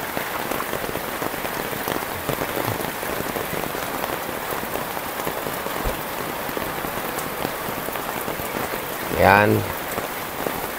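Heavy rain pours steadily onto surfaces as a dense, continuous hiss, and a single short word is spoken near the end.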